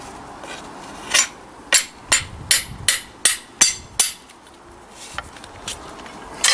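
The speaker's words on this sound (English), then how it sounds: "I'll just hit it with a hammer." A hammer taps repeatedly on the shaft of a Cold Steel Bushman knife to loosen it, about eight sharp metallic knocks in quick rhythm followed by a few lighter taps.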